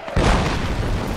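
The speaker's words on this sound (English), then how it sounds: "Those are mortars." A mortar round bursts in Project Reality, a single heavy, close boom that hits suddenly and then rolls out into a long, rumbling decay.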